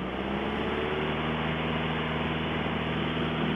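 A steady, loud Piper Archer light aircraft engine roars at full power on takeoff, a constant droning hum running continuously without letting up.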